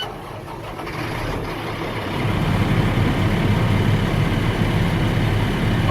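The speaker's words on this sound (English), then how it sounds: "My vehicle is now started." A truck's engine turns over partway through and settles into a loud, rumbling idle, heard close and steady after the start with no talk.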